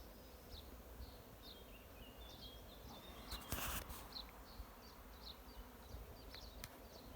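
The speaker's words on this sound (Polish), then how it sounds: "Piękny, piękny rój." A swarm of honeybees at an apiary hums faintly in the distance, a soft buzzing drone with individual bees zipping past now and then, over a quiet outdoor background with a brief rustle midway.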